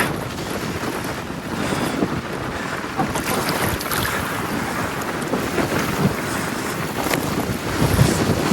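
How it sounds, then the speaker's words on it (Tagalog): Constant heavy wind buffeting the microphone, a dense roaring rush that never lets up, with faint water and boat sounds beneath. "Total hangin lang."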